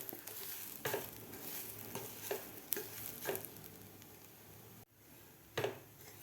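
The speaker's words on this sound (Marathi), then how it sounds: "2 ते 3 मिनिट हे रवा आणि ओल्या नारळाचा चव व्यवस्थित आपल्याला भाजून घ्यायचा आहे" Semolina and fresh grated coconut are stirred and roasted in a pan over medium heat, with a soft continuous sizzle and periodic scraping strokes of the spoon, fairly quiet and without voices.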